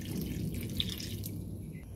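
Water pours into a cooking pot for chicken feet adobo, a faint trickling and dripping close by, with one brief bright splash partway through.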